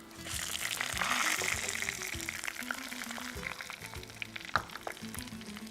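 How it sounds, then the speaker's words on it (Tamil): Mustard seeds and dried red chillies dropped into hot oil for tempering in a home-style cooking show, a steady crackling sizzle with sharp pops, close up and moderately loud. "இதில் தாளிக்கிறதுக்கு கடுகு,"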